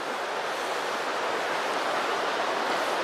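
Steady broadband rush of the Green River flowing past a riverside picnic area, a continuous even wash of water heard up close without pauses or voices.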